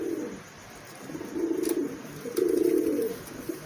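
Pigeons coo nearby in low, rolling, repeated calls, two or three throaty phrases standing out over faint background noise.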